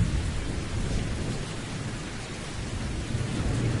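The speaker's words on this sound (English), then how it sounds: "It's starting to rain heavily." Loud, constant heavy rain hisses in a video game with deep rolling thunder beneath it, an unbroken close wash of noise from start to finish.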